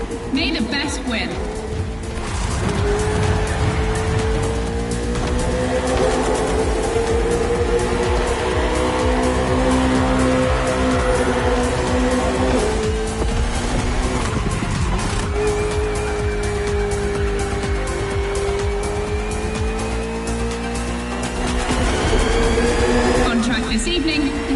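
A KTM RC16 and a Ferrari 488 GT3 race on a circuit in The Crew Motorfest, engines droning and shifting pitch with tire squeals throughout, while a voice talks over the racing.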